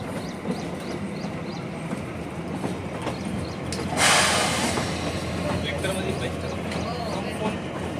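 Kalka–Shimla narrow-gauge toy train in Himachal running slowly, its wheels giving a steady, moderately loud clatter and rumble with a brief hiss midway; a voice speaks over it.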